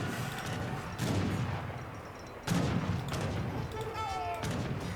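Cannon fire in an Age of Empires III battle booms several times at close range, heavy blasts layered with battle noise and overlapping crackling shots.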